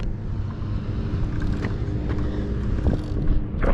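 A Talaria XXX electric dirt bike accelerating under throttle: a steady, close, broadband roar of motor and wind rushing, rising slightly toward the end, with no voices.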